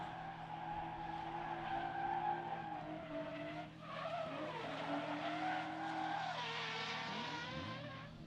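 Race car at the MSC Challenge 2025 Round 2 qualifying, engine revving hard with clutch kicks while tyres skid and squeal, loud and continuous throughout with pitch swooping up and down.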